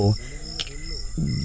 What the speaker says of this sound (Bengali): রাস্তার দুপাশে চাষের জমি থেকে ঝিঝি ডাকার